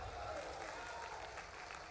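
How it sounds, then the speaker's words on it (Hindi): Audience at an outdoor political rally clapping steadily throughout, a dense wash of many hands with crowd murmur beneath and a voice faintly audible. "ताली वाली बजा के बताओ"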